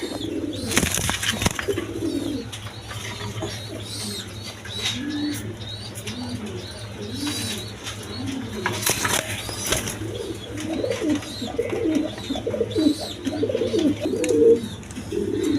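Blackless shirting pigeons at a seller's place coo in repeated soft, throaty phrases close by, with a couple of sharp bursts of wing flapping and faint chirps in the background.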